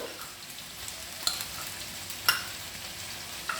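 Ginger garlic paste frying in a pan for egg pepper fry, a steady close sizzle with a few sharp clicks of a spoon stirring against the pan, no talk.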